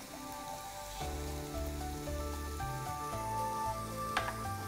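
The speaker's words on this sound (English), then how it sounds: "So while the tilapia is cooking" Tilapia fillets cooking on a T-fal OptiGrill, giving a faint, steady sizzle and crackle like light rain, with a low hum from the grill running underneath.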